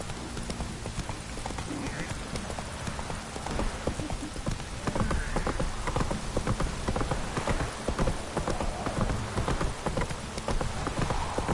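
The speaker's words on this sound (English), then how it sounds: "This downpour's a bastard," Heavy rain in The Witcher 3: Wild Hunt pours steadily throughout, a dense hiss mixed with rhythmic horse hoof clip-clops and faint voices, loud and continuous.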